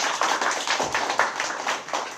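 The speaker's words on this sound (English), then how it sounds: "Give yourselves a round of applause." An audience at a Black History Bowl gives a continuous burst of many hands clapping, dense and fairly close, with no voices over it.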